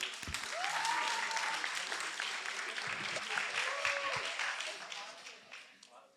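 Audience applause greeting a speaker at an Armenian debate event, a steady wash of clapping that swells early and slowly fades out over several seconds.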